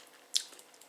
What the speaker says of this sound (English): Yeah, pastry is crunchy.